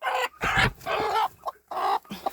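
A brooding hen sitting on a nest of goose eggs clucks and grumbles in several close, loud bursts separated by short pauses, with no talk over it.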